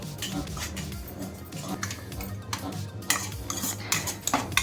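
Semolina (rava) being stirred and fried in ghee in a metal pan, with steady scraping and clinking of a utensil against the pan over a soft sizzle, close and continuous.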